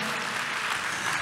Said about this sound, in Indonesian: tepuk tangan yang kompak dong buat kuasa Tuhan